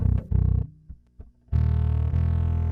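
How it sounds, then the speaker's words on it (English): A distorted bass plays thick buzzing notes with the low end cut after the distortion, a few short hits and pauses, then two long sustained notes. "it's much better to cut the low end after the distortion."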